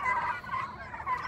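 Turkeys on a farm gobble in repeated warbling bursts, fairly faint and a little distant, with no voices over them.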